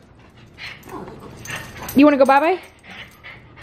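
Dog whimpering, with high whiny yips and some panting at home before an evening drive, close by and mixed with a person talking to it.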